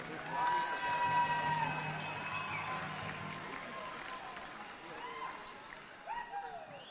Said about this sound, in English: Big round of applause to your dancers and singers here tonight.